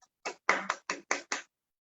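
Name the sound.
audience applause welcoming a speaker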